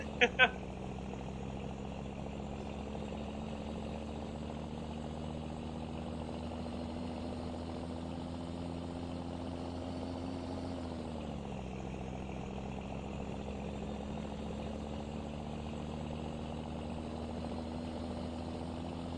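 Peterbilt truck engine idling in the World Truck Driving Simulator mobile game, a steady synthetic hum with a droning harmonic that dips briefly in pitch partway through, preceded by a couple of short clicks at the start.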